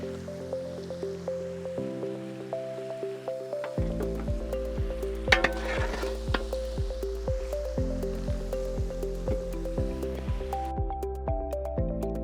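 Chicken for a Kashmiri chicken curry fries in oil in a handi, giving a soft continuous sizzle beneath louder background music.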